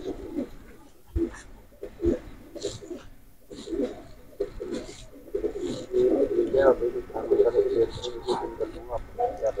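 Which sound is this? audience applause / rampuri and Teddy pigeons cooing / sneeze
rampuri and Teddy pigeons cooing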